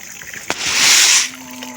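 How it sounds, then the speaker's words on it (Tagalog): Water rushes steadily through a pipe and splashes into a water storage tank stocked with tilapia, a hissing gush that swells louder midway, with no talking. "tuloy-tuloy ang agos papunta dito sa ating imbakan ng tubig"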